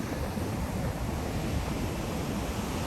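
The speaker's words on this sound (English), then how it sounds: "You know, these waves are beautiful." Ocean waves breaking at a beach in Mexico near Cancun, a continuous roaring wash of surf with wind buffeting the microphone, loud and steady throughout with no talk.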